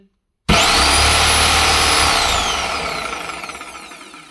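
A corded reciprocating saw runs at maximum speed after brief silence, starting abruptly with a loud, close, steady motor whine and buzzing blade stroke that gradually winds down and fades toward the end.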